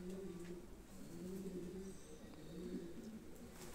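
A male pigeon coos near a nesting female, giving soft, low, repeated cooing phrases that roll on through the whole moment, faint and close with no talking.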